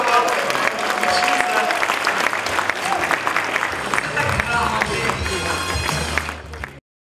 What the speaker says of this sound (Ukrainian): Учасники заходу аплодували стоячи,